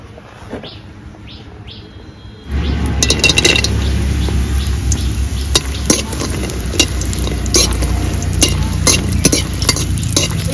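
Bori lentil dumplings frying in oil in a wok for a Bengali thor bori vegetarian dish, a quiet start before a loud steady sizzle erupts at about two and a half seconds and crackles on, with bird chirps in the background.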